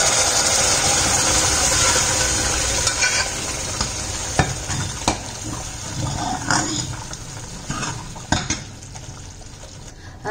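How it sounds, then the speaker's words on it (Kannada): Boiled moong dal is added to a frying pan and stirred, producing a steady close sizzle with scraping spatula strokes and occasional metallic knocks against the pan, fairly loud and continuous. "ನಾನು ಇವಾಗ ಹೆಸರುಬೇಳೆ ಕುದಿಸಿದನ್ನ ಕೂಡ ಹಾಕೊಳ್ತೀನಿ"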